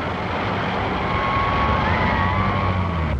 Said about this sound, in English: Another run for the fire department.